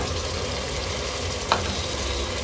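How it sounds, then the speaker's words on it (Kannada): Onions with ginger-garlic paste frying in a pan for a mutton keema ball curry, giving a steady close sizzle throughout with a brief stir scrape midway. "ಎಲ್ಲವೂ ಚೆನ್ನಾಗಿ ಫ್ರೈ ಆಗಬೇಕು"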